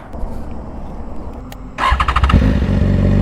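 BMW S1000RR superbike engine firing up with a sharp starter whir, then a loud, close burst of rapid revs settling into a rough, pulsing idle.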